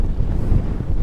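Wind buffets the microphone outdoors on the water during a fishing outing, a loud, low, rumbling roar lasting about a second with no talking.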